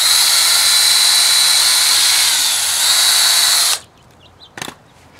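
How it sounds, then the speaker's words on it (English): A power drill whirs loudly and steadily for a few seconds drilling through a PVC hoop on a greenhouse frame, then stops abruptly; a brief clatter follows in the quiet. "is take a drill"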